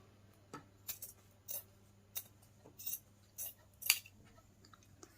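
Scissors snip craft strips for a budget autumn pumpkin decoration, about eight crisp separate cuts at an uneven pace, quiet and close with no talking.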